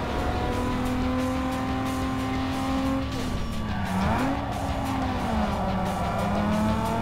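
A Lexus drifts in Need for Speed Underground 2, its engine holding a loud sustained tone that dips and swings while tires squeal through the slide, close and continuous with no voices.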